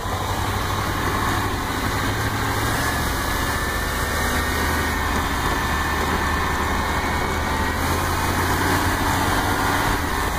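A car engine runs steadily in gear while the transmission works through the gears, with a constant drone and a slight shift in pitch partway through, loud and close, with no voices.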